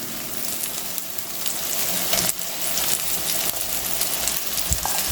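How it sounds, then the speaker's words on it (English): Marinated squid sautéing with finely chopped tomatoes in a hot pan gives a steady, close sizzle and crackle, with a few brief stirring scrapes and no voices. "Just keep sauteing it till the squid is nicely cooked."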